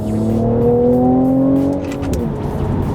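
A Mercedes-AMG C43 with 4MATIC all-wheel drive revs hard on the Sepang circuit at night, a loud close engine note climbing through the top of the rev range, then dipping briefly before pulling again.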